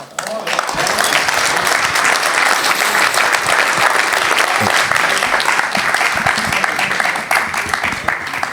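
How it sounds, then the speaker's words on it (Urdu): Loud, sustained applause from a live audience at a stage event in Houston, a dense wash of clapping that holds steady for several seconds with a brief dip before swelling again. "یہاں پر جتنی تالیاں بجی"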